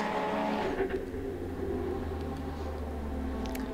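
A race car in the pit lane at the Bathurst 6 Hour race hums as a steady engine drone with tonal harmonics, heard at moderate distance under broad crowd and track noise, with no talk.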